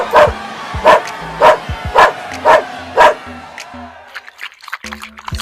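A little dog barks six times in a steady rhythm, close and loud, before the barking gives way to quieter, scattered yips and rustling.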